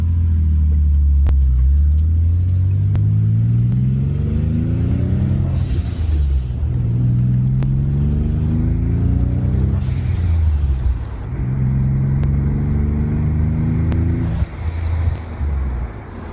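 A rebuilt barn-find Nissan 300ZX twin turbo engine running on its first drive, loud deep exhaust rumble rising and falling through repeated revs and gear changes, close up, with turbo whistle and faint clicks over the drone.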